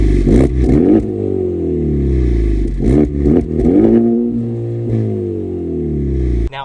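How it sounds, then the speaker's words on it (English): Aftermarket exhaust on a 10th-generation Honda Civic Type R revving loud and close, three or four sharp blips that climb and fall, with no voices. "obviously this is an aftermarket exhaust"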